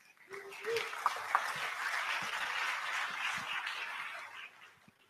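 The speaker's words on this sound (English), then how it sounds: "If we could have a big round of applause for Mr. Greg Gifford" Conference audience at BrightonSEO applauding as a speaker is welcomed to the stage, a dense wash of clapping that swells after a brief voice at the start, holds steady, then tapers off near the end.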